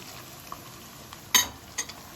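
Ground meat sizzles quietly in a pan, then a sharp clatter and a stir as chopped tomatoes are added, followed by another brief scrape.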